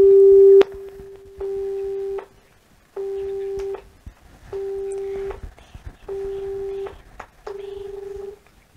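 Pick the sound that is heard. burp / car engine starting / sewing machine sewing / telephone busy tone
telephone busy tone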